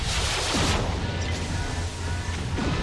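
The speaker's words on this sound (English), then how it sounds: "Now this guy's got a PPC and a Gauss rifle." Heavy weapon fire from a PPC and a Gauss rifle in the MechWarrior 3 video game, a dense, loud barrage of booming blasts and crashing impacts that roll over each other with no pause.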